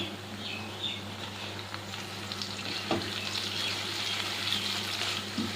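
Sesame seeds roasting in a pan over a low gas flame, a continuous gentle sizzle and rustle with occasional stirring scrapes and a soft knock near the middle, close and even.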